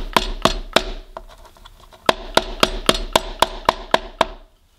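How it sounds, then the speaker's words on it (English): Pestle striking a lemongrass stalk: a quick run of sharp, hard knocks, a brief pause, then a steady, evenly spaced series of about nine louder thuds, close up and with no talking. "So I'm going to use a pestle and just pound it to break up the stalk."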